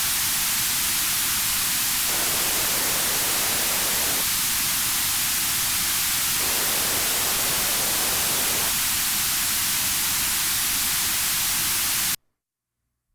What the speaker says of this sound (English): We're going to notch out or reduce the amplitude around 500 Hertz in this case. This one sounds like this.